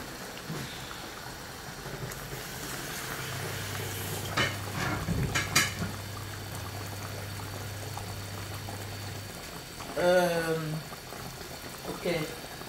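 Peanut sauce for smoked chicken simmering in a pot on the stove, with soft bubbling and clinks as a spoon stirs it, a low steady hum underneath and a voice speaking briefly near the end.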